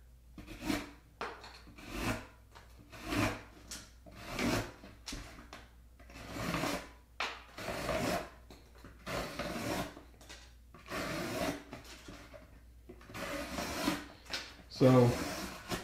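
Saw cutting into a stainless steel lock case, heard as repeated rhythmic rasping strokes in bursts of roughly one to two seconds, steady and fairly close, with short pauses between strokes.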